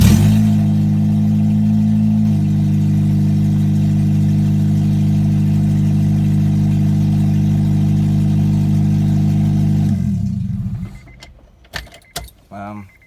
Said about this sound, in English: let's just do this first crank and start just to let you guys know it does run